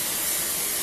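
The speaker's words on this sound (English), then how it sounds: "I'll take a little bit of my holding spray so they can stay right where they're at." Hair holding spray is sprayed in a short, close, loud continuous hiss from an aerosol can.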